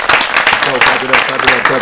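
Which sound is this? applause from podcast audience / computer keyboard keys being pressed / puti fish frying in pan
applause from podcast audience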